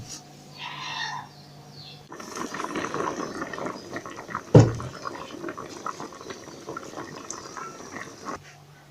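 Cooked cassava and ginger being drained, a steady rush of pouring water that runs for several seconds with one louder splash midway, close and alone.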